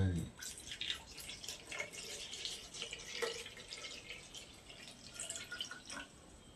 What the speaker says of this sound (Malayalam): അപ്പൊ ഞാനതിൽ വെള്ളം ഒഴിക്കാൻ വേണ്ടി പോകണ്ട